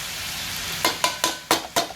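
Mushrooms going into a hot pan with frying pork, a steady sizzle broken by five quick, sharp stirring scrapes close by.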